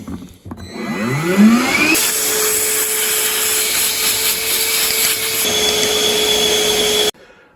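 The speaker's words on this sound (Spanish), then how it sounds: "Aspiradora batería." A cordless battery vacuum cleaner whirs up to speed, runs with a steady high-pitched whine and motor hum, shifts tone once, then switches off abruptly.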